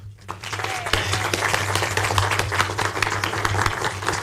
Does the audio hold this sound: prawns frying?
no